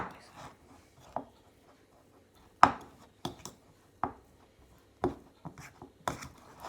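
Butter being cut with a knife on a board while baking a birthday cake: a series of separate short, sharp taps spaced about a second apart, close and fairly quiet, with small scraping sounds between them.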